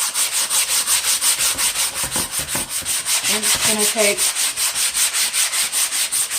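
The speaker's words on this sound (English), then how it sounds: "next, we're going to work on sanding our piece." Rhythmic back-and-forth sanding of a wooden piece along the grain, steady loud rasping strokes throughout, with a brief spoken phrase partway through.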